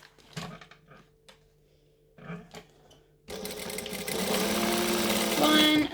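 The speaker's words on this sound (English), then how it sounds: "So I'm going to join them right sides together and sew the short ends." Brief handling noises and clicks give way to a sewing machine stitching the short ends of bag panels, its close, continuous whirring motor building steadily in the second half.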